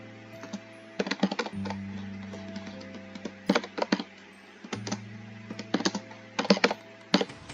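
Fingers typing on a computer keyboard, bursts of quick close key clicks separated by pauses, over a low steady electronic hum.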